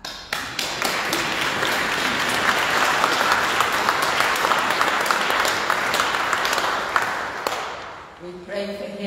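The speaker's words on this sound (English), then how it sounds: "Shall we give him a clap?" A church congregation at a Sunday Eucharist applauds the new Bishop of Kingston with sustained, dense clapping that fills the room for about eight seconds, then fades as a voice begins speaking.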